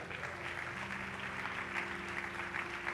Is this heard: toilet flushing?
no